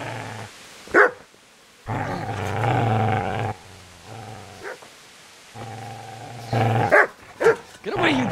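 A dog in Kingdom Come: Deliverance barks and growls in several loud, close outbursts, with a sustained snarling growl running between the sharp barks.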